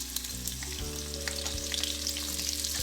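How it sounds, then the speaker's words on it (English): Sliced onions fry in hot mustard oil in a pan, giving a continuous crackling sizzle, close and steady, with a low hum underneath. "After heating, put sliced onions and fry them."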